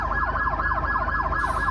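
Ambulance sirens wailing steadily in a rapid up-and-down cycle as a line of ambulances and Memphis police vehicles leaves a street scene, loud and close over engine rumble.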